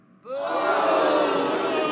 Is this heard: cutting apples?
no